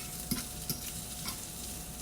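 Food sizzles while being stirred and broken into pieces in a frying pan that isn't nonstick, with a soft steady fry and a few sharp scraping stirs, no talking.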